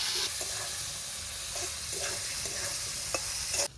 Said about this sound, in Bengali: শুধু সবজি আর একটু ঘি দিয়ে ভাতটা ভেজে দেবো